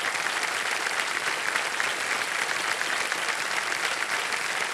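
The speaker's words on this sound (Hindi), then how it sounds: "और जोरदार तालियां बजते रहें प्लीज" Steady, dense applause from a large television game show studio audience, loud and sustained throughout with no pauses and no voices rising above it.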